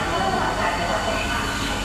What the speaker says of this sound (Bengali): ট্রেন এখন ছাড়লো, 10 মিনিট লেট করেছে, 5:30টায় ছাড়লো 13 নম্বর প্ল্যাটফর্ম থেকে